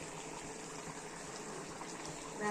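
Pumpkin curry simmers in a covered pot, giving a steady, soft bubbling hiss that stays even throughout and sits faint and close.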